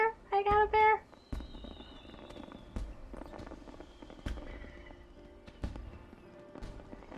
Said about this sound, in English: Look at how pretty the fireworks are.